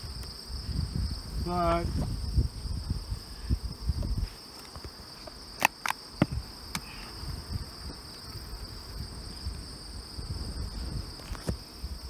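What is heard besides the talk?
many bees buzzing in a hive box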